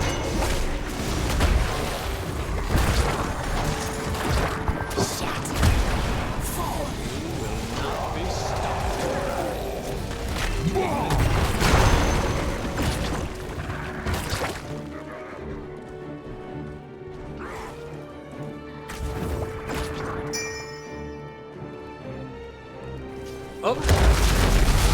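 Bombs go off in the video game Heroes of the Storm, with dull booms and crashes scattered through a dense, busy mix of game effects and music while players talk over it.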